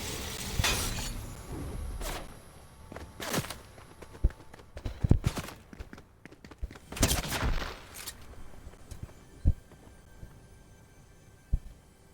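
Sporadic gunshots in a Fortnite match, sharp cracks scattered irregularly, some distant and some closer, with no talking over them.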